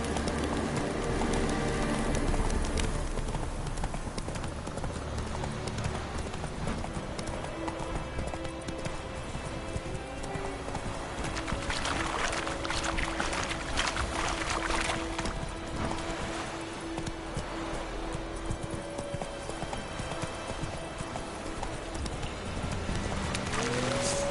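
Hooves of Roach, the horse in The Witcher 3, clip-clop steadily through a long gallop or canter, with a continuous game soundscape and faint birds around them.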